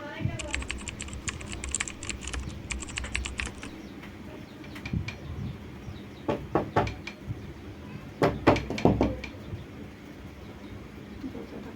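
Keywords are typed on a computer keyboard in fast bursts of close, crisp key clicks, with a pause between the bursts and a faint room hum underneath.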